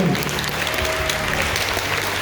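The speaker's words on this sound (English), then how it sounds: "Yeah, clapping." Steady, dense applause from an audience at an annual school carol service with infant and primary students, filling the hall evenly throughout, with faint voices mixed underneath.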